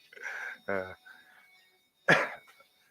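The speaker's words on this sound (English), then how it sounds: "there's nothing magic about me coughing" A sharp, loud cough bursts out after a stretch of talking, with a short rough tail; voices are heard before it.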